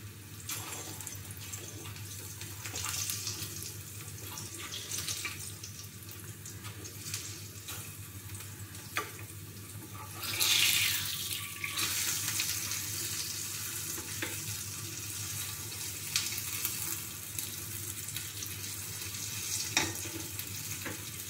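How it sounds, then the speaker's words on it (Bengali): Pea kachoris frying in hot oil, giving a steady continuous sizzle with bubbling hiss that swells briefly midway, heard close and alone without speech. "তেলটা গরম হয়ে গেছে, কচুরিগুলো ভেজে নিচ্ছি।"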